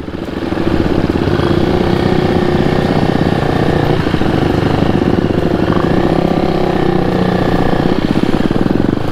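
Husqvarna 401 motorcycle engine idling with its silencer removed, a loud, close, steady rapid thumping putter that runs unbroken throughout with no talk.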